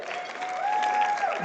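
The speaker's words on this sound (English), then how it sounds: "If you want to see it knocked off, clap those hands right now." Crowd clapping at a powerlifting national meet ahead of a junior national record attempt, steady applause with a sustained tone running through it.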